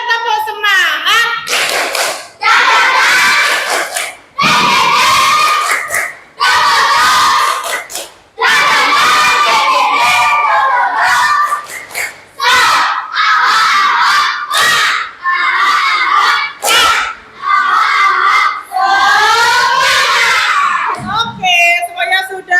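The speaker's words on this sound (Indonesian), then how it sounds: "Tepuk semangat dulu deh, tepuk semangat." A classroom of children performs a rhythmic spirit clap cheer, loud group chanting and shouting punctuated by bursts of clapping in a steady pattern, close and filling the room for about twenty seconds.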